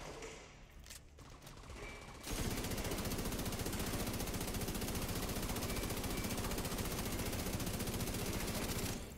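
A light machine gun in The Division 2 opens up after a short stretch of quieter game noise, then keeps firing in one long, steady, rapid stream of loud shots until the end.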